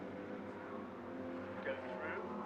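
Porsche race cars engines droning around Silverstone in a championship race, a steady distant roar beneath a commentator talking.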